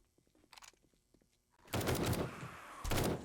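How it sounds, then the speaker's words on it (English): Gunfire in the game 7 Days to Die: after a stretch of soft footsteps and clicks, a loud, close burst of rapid shots rattles out, stops briefly, then starts again. "Why do you keep shooting off to the side of these people?"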